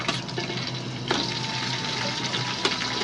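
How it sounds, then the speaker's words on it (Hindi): Chicken sizzles steadily in a hot pan with fried ginger, a dense continuous crackle with occasional stirring scrapes, close and fairly loud throughout. "अभी हम लोग इसमें चिकन डाल रहे हैं, चिकन डालेंगे।"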